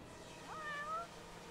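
A cat gives one short, clear meow, rising then falling, fairly close against a quiet room background.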